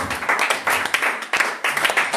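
A church congregation claps in praise during worship, with loud, rapid and slightly uneven hand claps in a steady run that fills the room and carries no talking.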